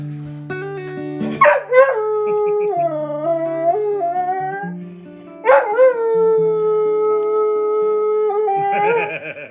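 A dog howls in long, wavering drawn-out tones, breaking into a couple of sharp yips and barks partway through and again near the end, loud and close with no talking.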